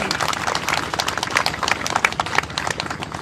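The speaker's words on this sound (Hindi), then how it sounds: "गिरीश जी के लिए आप सभी की तरफ से जोरदार तालियां होनी चाहिए" Audience applause for a speaker at an inauguration event, a brisk, dense patter of clapping with no pause, fairly close and loud throughout.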